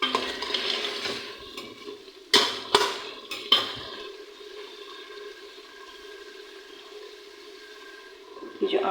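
Keema being stirred in a metal pressure-cooker pot, with a few sharp spoon clanks against the pan over a steady low sizzle of frying meat, close and moderately loud.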